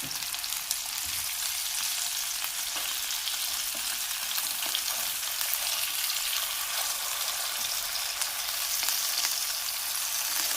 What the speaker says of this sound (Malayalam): ഇത് ഇവിടെയൊക്കെ ഇത്രയും കട്ടിയുള്ളതുകൊണ്ട് ചെറു തീയിലിട്ട് തന്നെ ഇനി ഇത് വറുത്തെടുക്കണം